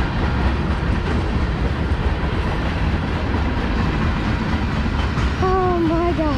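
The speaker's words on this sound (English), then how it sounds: "Second train of the day. Another BNSF." A BNSF freight train rolls past close by, a loud, steady roar of wheels and cars with rhythmic clickety-clack all the way through, and a horn-like tone rises near the end.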